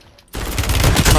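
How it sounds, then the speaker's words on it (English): Rapid automatic gunfire from enemy players in Warzone breaks out suddenly after a quiet moment and continues as a loud, dense burst. "his teammates are shooting"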